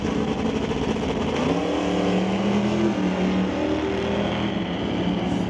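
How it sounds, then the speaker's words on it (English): Drag race between Chris Stone's Stone Cold Racing Dodge Dart and Jim Banky's Rad Torque Systems Plymouth Barracuda, with a loud, steady, sustained engine roar holding throughout and a slight pitch shift midway. "Chris Stone in the Stone Cold Racing Dodge Dart will race Jim Banky in the Rad Torque Systems Plymouth"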